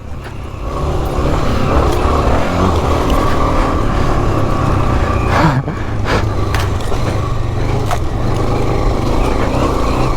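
A 1984 Honda XL600R dual sport motorcycle is ridden hard, its loud engine roaring close and steady with a brief dip and rebound mid-run and clattering knocks from the bike.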